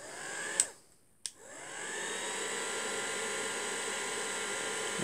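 Heat tool blowing hot air onto Sizzix shrink plastic, a steady loud fan-like rush that cuts out briefly with two sharp clicks, then switches back on and roars continuously.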